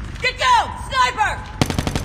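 In a COD Mobile match, a short, rapid burst of gunfire from a Cordite rifle cracks out near the end, following a brief voice.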